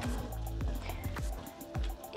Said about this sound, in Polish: Teraz zamieszam.